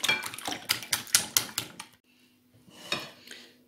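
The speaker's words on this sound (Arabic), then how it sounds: "غادي نخلط هاد العناصر مزيان، نقرب هاد البيض مزيان" Whisking eggs in a bowl for a Ramadan breakfast dish, a quick run of sharp clicking strokes against the bowl for about two seconds, a pause, then one more faint tap.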